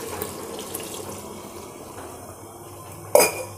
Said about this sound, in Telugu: ఇప్పుడు గ్లాస్ వాటర్ పోస్తున్నాను